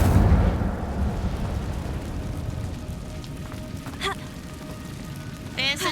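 The Incendio fire spell from the Hogwarts Legacy video game roars as a loud burst of flame that settles into a crackling, rumbling burn, with faint pops and chirps toward the end.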